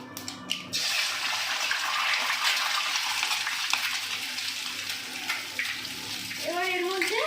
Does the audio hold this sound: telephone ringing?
no